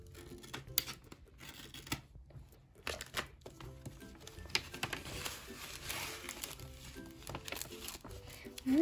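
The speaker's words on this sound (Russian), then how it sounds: "Ну что, Милка, давай посмотрим, что во втором пакетике." A plastic parcel bag is unpacked at close range: crinkling, rustling and brief tearing sounds come in irregular bursts, with short pauses between them and a voice speaking at times.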